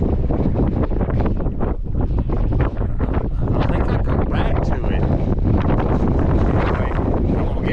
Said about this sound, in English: The wind is, I mean, it's horrible.